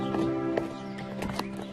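A horse neighs loudly up close, a wavering whinny, while a few hoof clops and shuffles sound beneath and after it.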